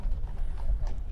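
Horse hooves clip-clopping at Tallow Horse Fair, a steady run of close, fairly loud steps over a low rumble of crowd and outdoor noise.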